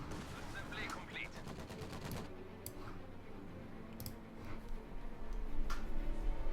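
Company of Heroes 2 battle gunfire crackles in rapid machine-gun bursts, then thins into scattered single shots, with a low rumble building toward the end and faint in-game voices.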